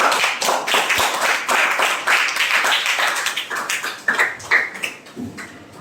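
A class claps their hands in applause, with individual sharp claps from a modest group of nearby people that are clearly distinct and gradually thin out toward the end.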